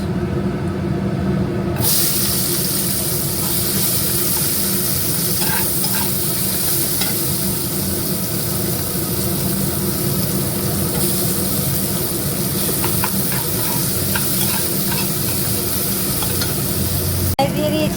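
Continuous loud sizzling of onions frying in a hot pan, rising sharply after a brief quieter start, with occasional stirring scrapes.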